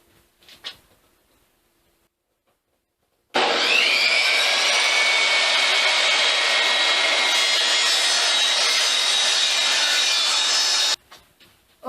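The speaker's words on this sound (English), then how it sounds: "after making one pass through the saw to clean up one edge" A power saw rips through a 2x4 wood piece for a handle, a loud sustained whining cut starting abruptly after near-silence and stopping sharply.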